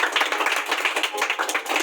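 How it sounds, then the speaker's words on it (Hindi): Students in a classroom clap together in a quick, even rhythm, a steady burst of fairly close hand claps lasting a couple of seconds. "बहुत अच्छे, तालियां इनके लिए।"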